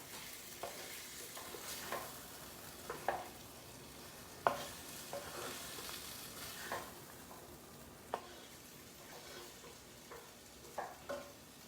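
An eggplant pahi dish is stirred in a pan while it cooks, a faint continuous sizzle with scattered scrapes and light clinks of the utensil against the pan, no voices.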